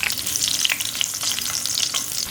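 Scallion and ginger hitting hot oil in a clay pot, a loud, continuous crackling sizzle with bursts of spattering and stirring, no voices.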